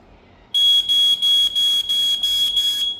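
An AC-powered smoke alarm under test gives a loud, piercing electronic beep in rapid bursts, about seven even pulses in a row with short gaps, close up and with no talking over it.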